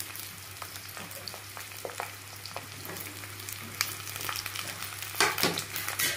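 Cut raw mango pieces for a sweet-and-sour pickle being stirred in a pan over very low gas flame, a soft steady sizzle under scattered scraping strokes that swell louder near the end, with no talking.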